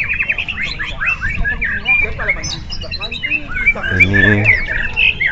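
Mixed songbirds, including magpie-robins, sing at a bird-song contest at Rawa Singkil, with busy overlapping chirps, trills and whistles close by and a murmur of crowd voices underneath.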